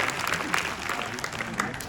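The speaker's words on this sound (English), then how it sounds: "Please applaud." Brief scattered applause from an audience at a Star Wars 70mm special screening, moderately loud and uneven, with a few sharper claps standing out.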